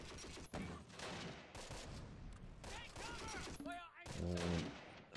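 Dense bursts of gunfire in Close Combat: The Longest Day, a WWII strategy game, crackle steadily, mixed with voices and other game effects, loud and busy throughout.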